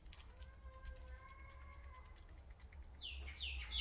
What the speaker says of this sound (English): A bird, my goodness me.